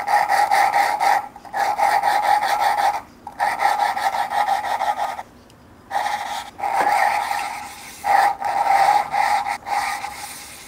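A BMW N54 engine valve is lapped by hand against its seat with gritty abrasive compound, producing repeated rasping strokes in bursts with short pauses between, close and fairly loud, with no talking.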